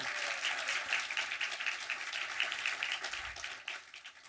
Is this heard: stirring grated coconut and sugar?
no